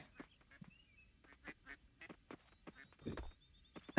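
Farm ducks in the video game Coral Island, giving a string of short, clipped quacks in irregular bursts over a quiet background with faint chirpy game tones.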